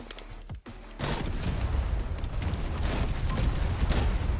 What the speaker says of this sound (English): Let's call in our airstrikes over here.